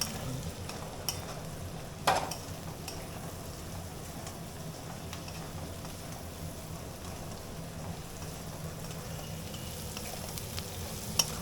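Beans stir-frying in a pan for fried rice, a steady quiet sizzle with occasional clinks of a utensil, one sharper scrape early on and another near the end, without any speech.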